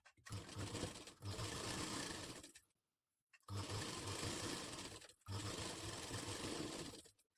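A sewing machine stitches a katori blouse in three bursts of steady, whirring, rapid needle rattle, separated by short silent pauses, close and loud.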